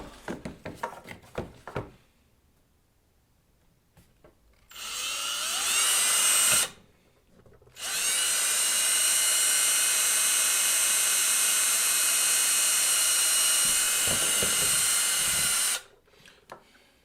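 A power drill runs a step bit to bore a pilot hole for an LED reflector replacement: a short burst of clatter, then a loud, high whining drill that runs for a couple of seconds, pauses, and spins again steadily for about eight seconds.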